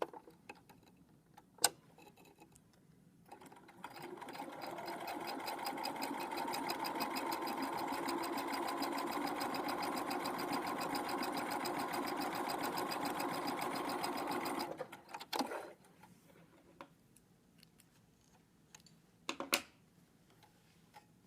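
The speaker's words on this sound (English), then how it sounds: "we're going to sew across the bottom at 5/8 of an inch" A sewing machine stitches steadily across the bottom of a fabric pocket for about ten seconds, a close, even mechanical whir with a fast ticking rhythm, framed by a few quiet clicks and handling bumps before and after.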